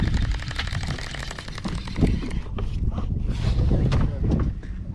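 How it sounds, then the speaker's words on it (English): Wind roars against a microphone on a fishing boat in the Biloxi marsh, a continuous low, buffeting rush with muffled voices beneath it. "You'd think the wind would stop blowing one day."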